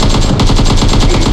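Rapid automatic gunfire from the video game PUBG Mobile rattles in a loud, steady burst of closely spaced shots.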